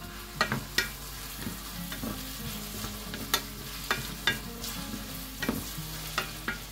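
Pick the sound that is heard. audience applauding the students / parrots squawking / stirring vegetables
stirring vegetables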